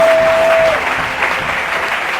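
Congregation at an evangelical church service in Côte d'Ivoire bursts into loud, sustained applause, a dense wash of clapping that holds steady for a couple of seconds, with a faint tone fading early.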